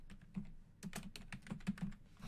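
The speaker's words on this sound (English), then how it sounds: "So you type pro player." Quick bursts of keystrokes on a computer keyboard while entering text in the Streamlabs thumbnail editor, a clattering, uneven run of close, fairly quiet clicks with no talking.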